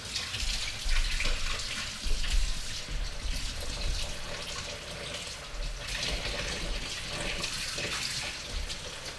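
Water runs from a kitchen tap in a steady, faint splash and gurgle, with a few louder surges along the way and no voices.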